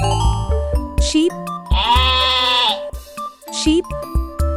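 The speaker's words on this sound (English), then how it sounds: "Sheep." A sheep bleats in two wavering calls with a longer, steady bleat between them, close and loud over a soft farmyard background, with no talking.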